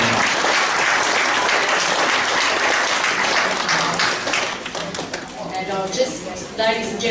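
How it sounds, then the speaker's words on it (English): A community forum audience claps steadily, the applause thinning out toward the end as a voice begins speaking over the last scattered claps. "Please give Cam a round of applause"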